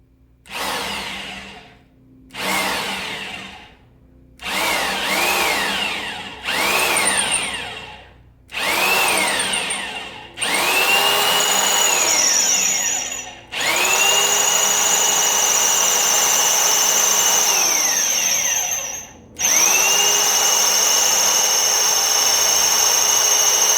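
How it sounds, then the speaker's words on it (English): A power drill whirs in repeated bursts, short at first, then longer sustained runs with rising and falling pitch as it bites into antler for a hidden-tang knife handle, close up. "after drilling the hole, the knife tang fits in"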